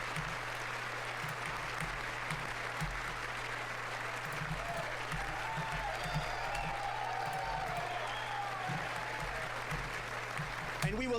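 Steady applause from a crowd at a State of the Union address, continuous clapping throughout with a low hum underneath.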